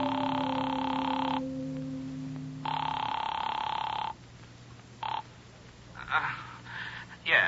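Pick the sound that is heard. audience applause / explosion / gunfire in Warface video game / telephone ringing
telephone ringing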